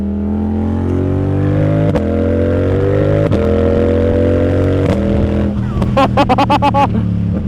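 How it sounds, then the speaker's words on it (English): A 2025 Yamaha MT-07 motorcycle engine revs loudly and climbs steadily, with quick clutchless quickshifter upshifts cutting the tone briefly, then a burst of rapid sharp pops near the end. "Just listen to the bike."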